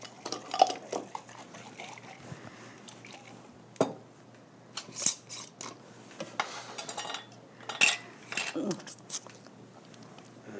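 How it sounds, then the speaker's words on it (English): A seasoning mixture of salt and pepper is shaken in a container in a home kitchen, giving irregular rattling and clattering bursts, close by, mixed with splashy liquid sounds and a person talking now and then. "And then we're just going to take it and shake it up."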